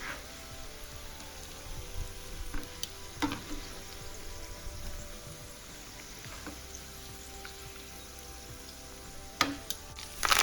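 Pieces of okra (lady's finger) sizzle steadily in hot oil, a soft continuous crackle with occasional sharper pops and light stirring clicks, and no voices.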